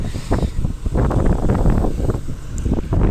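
Strong wind gusts across an open farm field, buffeting the microphone with loud, rumbling blasts that rise and fall continuously.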